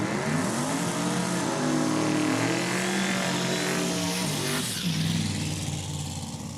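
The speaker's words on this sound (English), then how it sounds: "this looks like we got a 67 Camaro in the left lane and a 67 Pontiac Firebird, aka the Warbird, in the right" A 1967 Chevrolet Camaro and a 1967 Pontiac Firebird drag race at Saskatchewan International Raceway, their engines roaring loudly together with rising revs and gear changes, steady and sustained throughout.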